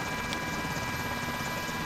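A helicopter flies in a video game, a steady loud rotor drone running unbroken throughout.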